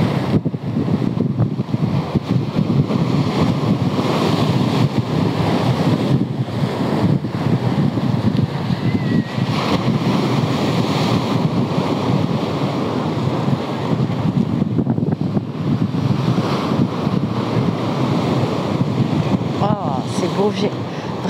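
Ocean surf rolls and crashes steadily onshore under heavy wind buffeting on the microphone, a continuous loud roar with a person talking over it.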